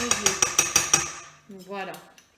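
Rhythmic metal-on-bowl tapping while mixing tiramisu cream in a bowl: about six quick, evenly spaced clinks, close and bright, followed by a short hum.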